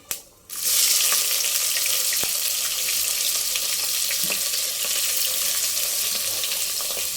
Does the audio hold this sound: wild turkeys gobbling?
no